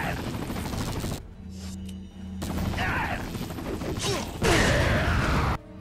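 Gunfire in the survival-horror game Resident Evil 4 during a helicopter backup sequence, bursts of shots crackling amid loud mechanical din and a low droning hum, with brief quieter gaps between heavy volleys.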